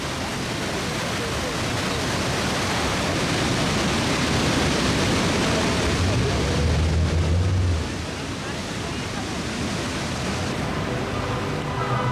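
Iguazu Falls roars continuously nearby, a massive, dense, unbroken rush of crashing water with a deep rumble swelling briefly midway.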